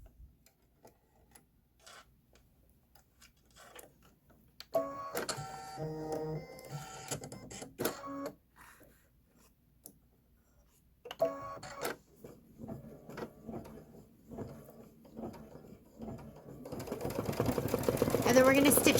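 Kimberbell embroidery machine stitching the word bakery in purple thread for a Twilight Boolevard bench pillow, with rapid mechanical ticking in bursts separated by quiet pauses, close and growing louder toward the end.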